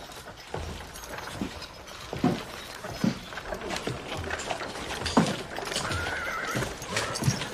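A horse whinnies in a rough outdoor Western setting while hooves clip-clop on hard ground, with several neighs rising over steady stepping and shuffling noise, fairly close and clear.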